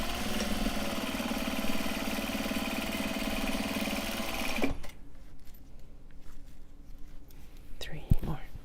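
A sewing machine top-stitching Japanese fabric pencil pouches runs in a steady, close, loud whir for about four and a half seconds, then stops, leaving quiet room sound with a faint voice near the end.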